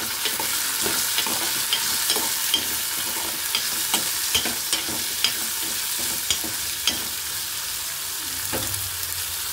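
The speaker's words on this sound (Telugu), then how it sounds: "పచ్చిమిర్చి కొద్దిగా వేగినాక కొబ్బరి వేసేస్తున్నానండి." Green chillies and grated coconut fry in a pan with a constant loud sizzle, while a spoon scrapes and clicks in a regular stirring rhythm, with no voices.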